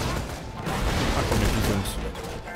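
Rocket launcher explosions in the video game Borderlands 2, dense loud blasts and crashing debris rolling together in a continuous barrage with brief sharper cracks near the end.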